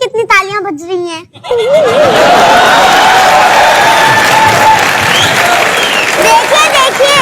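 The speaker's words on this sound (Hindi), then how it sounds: "मेरे लिए कितनी तालियां बज रही हैं" Loud, sustained applause from a crowd follows a brief exchange of voices, with cheering and scattered shouts mixed in.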